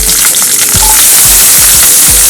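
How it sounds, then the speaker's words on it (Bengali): Onions sizzling in hot olive oil in a pan, a steady, dense hiss that sounds close and loud, with soft low thumps from stirring underneath. "এবার অলিভ অয়েলের মধ্যে আমি পেঁয়াজ দিয়ে দেবো।"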